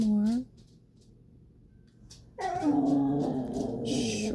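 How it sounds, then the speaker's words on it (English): A dog whimpers and lets out drawn-out howling whines, one short cry and then a longer wavering howl, close by and fairly loud, with quiet room noise in between. "Dog is going to have a conversation"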